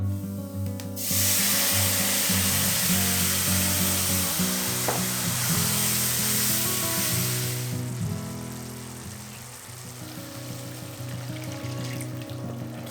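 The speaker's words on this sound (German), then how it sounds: "Und so solltest du den Reis etwa 15 Minuten köcheln lassen." Asparagus risotto rice simmers and sizzles in vegetable stock in a pan, a steady close bubbling hiss with occasional stirring scrapes, easing slightly toward the end.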